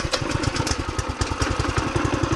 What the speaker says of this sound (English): we will go ahead and turn on the gas, turn on the engine, and might have to use a start